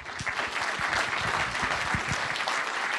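An audience at DevOpsDays Portland 2016 applauds a speaker taking the stage, a fairly soft, steady spread of many hands clapping with scattered individual claps poking through for a few seconds.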